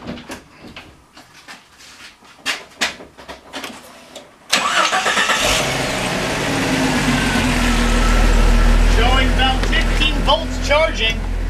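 A Jeep 4.0 engine, just fitted with a 130 amp alternator upgrade, starts after a few clicks and knocks in the engine bay. It catches abruptly and settles into a loud, steady idle.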